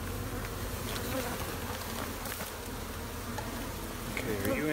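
Honeybees buzz in an open hive during an inspection, a dense, continuous drone of many insects close by that holds steady throughout, with no voice heard.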